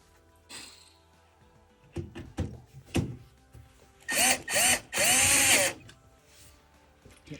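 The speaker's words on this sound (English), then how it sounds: "I'll add the 2 little Phillips head screws" A power drill drives Phillips head screws into the top of an LG washer, a few knocks and clicks leading into several loud whirring bursts close by, the last one held longest.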